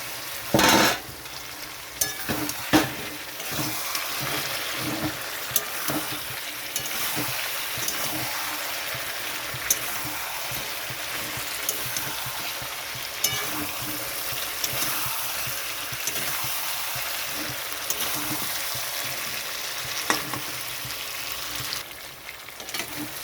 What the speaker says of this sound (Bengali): এখানে আমি দিয়ে দিচ্ছি ভেজে রাখা চিকেন